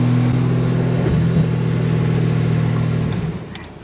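Engine of a Toyota Supra MK3 drift car while driving: a loud, steady mid-low drone with sustained harmonic tones, holding for about three seconds before easing off, with a couple of faint high clicks near the end.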